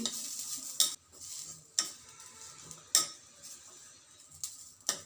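Grated coconut dry-roasting in a pan for a flattened-rice (avalakki) dish, with a steady soft sizzle and four or five sharp scrapes of a spatula stirring against the metal, close and without talk.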